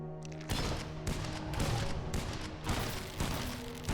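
Rapid bursts of video game gunfire while shooting an enemy, loud repeated volleys with booming hits in steady clusters, no talking.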